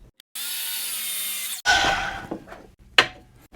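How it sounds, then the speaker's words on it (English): Hand saw cutting wood at 45 degrees in a miter box: a smooth sustained rasping stroke, then a few shorter choppy strokes with brief pauses, close and moderately loud. "let's head over to the miter box and get some of these marks cut"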